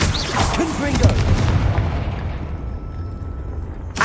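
Confringo spell blast in the video game Hogwarts Legacy, a loud booming explosion with a crackling burst that rumbles and fades over several seconds, mixed with game effects.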